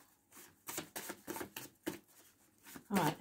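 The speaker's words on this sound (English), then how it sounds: "Okay. Two more shuffles." A deck of tarot cards being shuffled by hand at close range, in quick riffling bursts with short pauses and a louder final flurry, with no talking.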